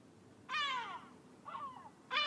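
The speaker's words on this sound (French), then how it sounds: "Les nouveaux gardiens du fort, ce sont ces goélands." Gulls calling at the Château d'If, the island fortress off Marseille: three loud, near, drawn-out cries with short gaps between them, the middle one softer, over a quiet background.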